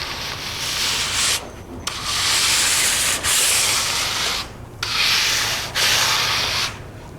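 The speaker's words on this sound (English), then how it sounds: "make sure to smooth out any of the trowel marks, any high rocks that you may see" Trowel scraping across fresh pebblestone flooring, loud repeated rasping strokes separated by brief pauses, close and without talk.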